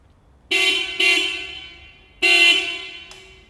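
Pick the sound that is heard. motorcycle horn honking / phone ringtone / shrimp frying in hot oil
motorcycle horn honking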